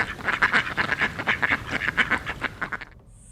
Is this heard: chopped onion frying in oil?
no